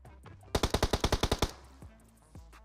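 A burst of about ten rapid, sharp automatic gunshots rings out in a shooter video game. A couple of softer single shots follow after a short gap.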